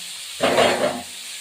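Chopped onion dropped into hot fish oil with garlic and ginger, giving a sudden loud sizzle that lasts about half a second, then fades back to a faint hiss.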